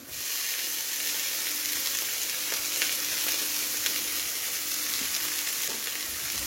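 Onions and canned mushrooms cooking and being mixed in a Thermomix TM6, a constant close hiss and sizzle with faint stirring ticks running evenly throughout, no voices.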